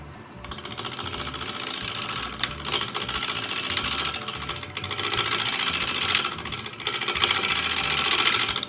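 A wood lathe spins at roughly 965 rpm while a 1/2 inch bowl gouge cuts the turning wood, producing a continuous whirring hum with rhythmic scraping bursts at close range and no speech.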